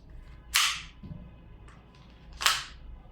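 An airsoft gas blowback pistol fires two sharp, separate cracks about two seconds apart, close and crisp against a quiet background.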